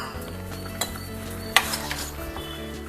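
A spoon stirs ground paste into lentils cooking in a pot for a bitter gourd kuzhambu, with a few distinct scraping clinks against the pot over a steady simmering background hum.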